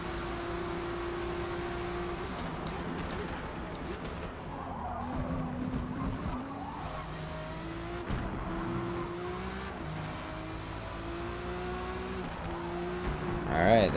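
Honda NSX race cars drag racing in Forza Motorsport at Catalunya, engines droning and rising through gear changes with occasional tire squeal, steady and fairly close for the whole stretch, with a voice talking over it.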